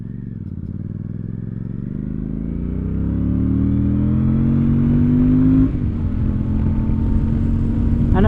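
A Royal Enfield Super Meteor 650 motorcycle under throttle while riding, its engine note rising steadily in pitch through a gear, then a shift at the top, loud and close with wind noise, no talk.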